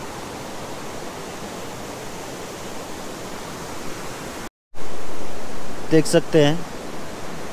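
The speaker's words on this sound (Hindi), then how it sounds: "और यहीं पे है सीता नदी जो कलकल छलछल बहती" Sita river at Ashok Vatika in Sri Lanka flows with a steady broadband rush of water throughout, briefly cut by a short gap, with a voice speaking over it near the end.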